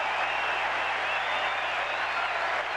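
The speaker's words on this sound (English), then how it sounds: "The big crowd at Fenway." A big crowd roars at a Fenway Park baseball game in the 8th inning of a do-or-die 2003 playoff game for the Red Sox, a steady, dense wash of cheering and applause that holds at full strength with no break.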